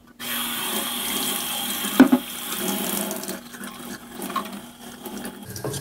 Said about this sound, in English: Spray some water down through there.